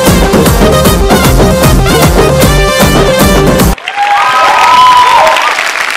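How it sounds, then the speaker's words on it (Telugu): Studio audience bursting into loud applause and cheering during a Telugu game show, the clapping dense and steady at first, then cut off and followed by a softer wash of crowd noise and voices. "క్లాప్స్ కొట్టండి అభాగ్యులు నలుగురికి"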